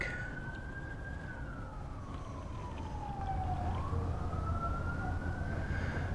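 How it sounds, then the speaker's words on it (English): A wailing emergency siren rises and falls in pitch over a constant low rumble of traffic, sounding somewhat distant and continuous, heard outdoors during hand panning for fine gold. "And we got a siren in the background."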